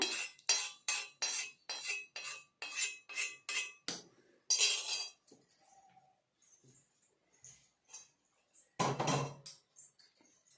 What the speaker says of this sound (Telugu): ఈ రోకల్ బండలో ఇది కొంచెం కొంచెంగా వేసి మనం దంచుకుంటామమ్మా